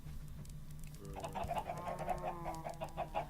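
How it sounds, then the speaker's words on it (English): A Minecraft chicken clucks in a rapid series of soft, faint clucks that start partway through and continue over a low background hum, with no talking. "Get that chicken back in there."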